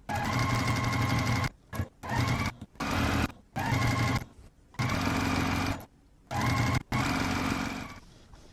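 A sewing machine stitches together quilt fabric strips for a gingham quilt in bursts of steady whirring, stopping and restarting several times with short silent gaps between runs.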